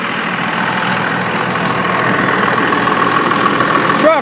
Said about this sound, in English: This truck runs absolutely smooth.